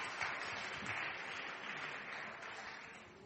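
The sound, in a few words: audience applause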